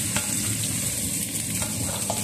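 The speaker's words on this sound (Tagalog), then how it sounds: "Golden brown muna natin itong sibuyas para malasa talaga sa ating niluluto." Chopped onions fry in a pan for a chicken carbonara, a steady close sizzle with faint scrapes from stirring throughout, no voices.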